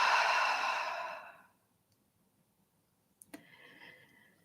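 A long, audible exhale through the mouth during a yoga session fades out over about a second and a half, followed by quiet and a couple of faint clicks and a small breathy rustle.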